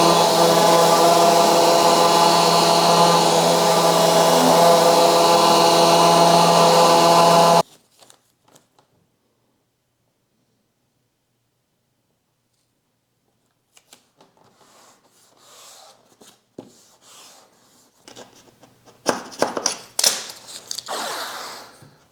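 Power sanding the inside of a mitered wooden box at 320 grit: a loud, steady motor whir for about seven seconds cuts off abruptly, followed by silence and then soft handling rustles and taps.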